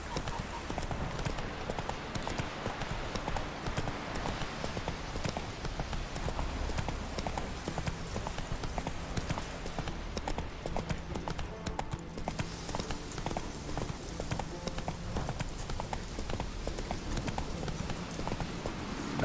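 Horse Roach's hooves clip-clop steadily in The Witcher 3 game, a continuous rhythmic trot under a dense bed of music and ambience, with occasional voices and a brief whinny.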